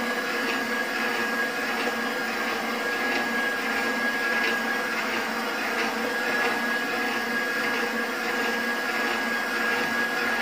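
An electric mixer runs steadily, blending chocolate brownie batter in a bowl with a constant loud whirring hum and a faint high whine, with no pauses and no talking.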